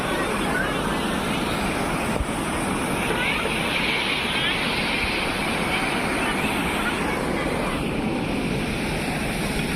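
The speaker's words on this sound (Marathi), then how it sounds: "हा पाणी असं जाऊन खाली इकडे खळखळाट जातो" Overflowing lake water at Shivanibandh reservoir in monsoon rushes and gurgles downhill in a constant, dense roar, with wind buffeting the microphone throughout.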